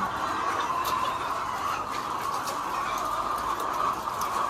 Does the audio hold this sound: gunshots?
no